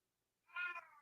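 A pet cat lets out a single short meow, faint and fairly close, rising then trailing off after a moment of silence.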